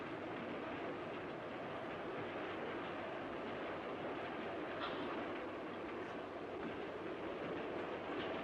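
A continuous, even rumble of a train rolling along the rails, steady and unbroken, with no voices.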